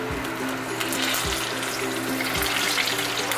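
A blooming onion fries in hot oil with a steady, close crackling sizzle, joined by a few soft low thumps, and no one speaks.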